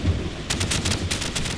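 Call of Duty gunfire in a match set in Rio: rapid automatic bursts crackle in quick succession over a second and a half, over a low background rumble, with no talking.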